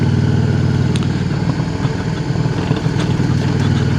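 A Triumph motorcycle engine idles steadily and close by, with an even low rumble and a faint mechanical clatter throughout, and no one talking.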